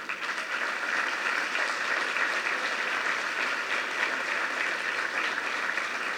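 A church congregation applauds steadily, a dense wash of clapping from many hands holding an even loudness from start to finish with no talk over it.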